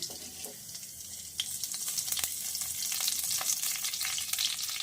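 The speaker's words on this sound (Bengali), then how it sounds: "আমার তেলটা গরম হয়ে এসছে আমি সামান্য একটু কালো জিরে দিয়ে দিচ্ছি" Nigella seeds sizzle in hot oil, a steady close crackling hiss that swells after the first second, with scattered pops and light stirring clicks, and no voices.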